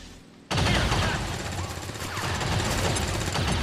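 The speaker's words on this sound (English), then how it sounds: "I am going to throw a grenade on him" A grenade goes off in the video game XCOM 2 Long War 2, a sudden loud blast that cuts in and then holds as a sustained, crackling rumble of debris and gunfire-like noise.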